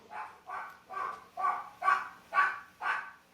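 Several dogs barking in a steady series of about seven evenly spaced barks, moderately close and fairly loud, with no talk over them.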